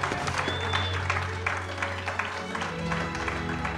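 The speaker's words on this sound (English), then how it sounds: "How about a round of applause for Tracy and Grizzly Dan?" An audience at a live show claps for two guests, steady dense applause with scattered sharper claps and some musical tones underneath, no clear speech.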